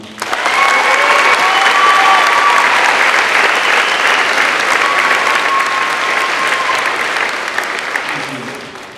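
Sustained audience applause at a high school graduation ceremony, a dense steady wash of clapping from a large crowd that holds loud for most of the stretch before tapering off near the end.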